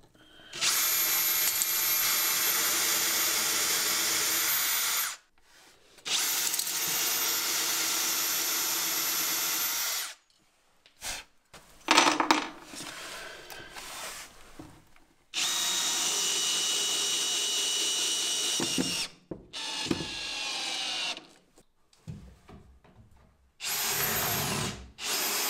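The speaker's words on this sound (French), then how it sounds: "Il faut que je perce à 40." A power drill bores holes in wood while building a custom bookshelf, several sustained high-pitched whirring runs of about five seconds each, close and loud, separated by short quiet gaps and some handling noise.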